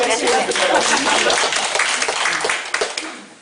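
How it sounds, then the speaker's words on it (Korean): A church congregation claps during a Bible quiz at a worship service, with loud, dense clapping mixed with voices that fades near the end. "우리 박수 한번 쳐드릴까요?"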